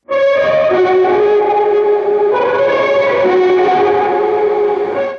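A sustained, heavily effected shoegaze lead electric guitar with distortion and swirling echo, loud and washy, its notes gliding and blending into a dense drone.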